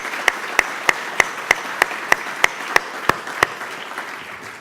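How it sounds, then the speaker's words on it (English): Evenly spaced claps, about ten in a steady quick rhythm, ring out at an awards evening honoring the night's honorees, close and crisp, then stop. "give a big round of applause to all the honorees tonight"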